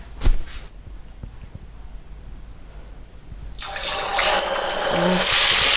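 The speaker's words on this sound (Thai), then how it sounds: "พอ น้ำมันในกระทะร้อนจนได้ที่นะคะเพื่อนๆ เราก็ใส่ปลาลงไปทอดเลยนะคะ" Fish, a kingfish, dropped into hot oil in a pan, with a quiet lead-in and then a loud, steady sizzling hiss that builds and holds close to the end.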